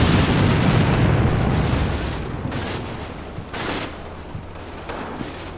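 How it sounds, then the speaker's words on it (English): Machine gun fire in a video game battle, heavy sustained bursts and booming impacts loud at first, then thinning into separated distant bursts. "Some machine gun in there."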